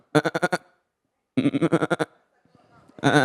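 Recorded goat bleats played back: a quick run of several bleats, a pause, then a longer series of repeated bleats, loud and close, with a few faint sounds in the gaps and another bleat starting at the end.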